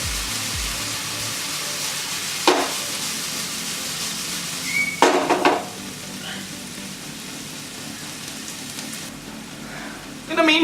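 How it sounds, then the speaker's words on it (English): Kerala-style pork pepper roast cooks in a pan over a high flame, giving a steady loud sizzle and hiss, broken by a few short utensil clinks and scrapes. "Gonna let it cook for a while in high flame, so that all the juices come out"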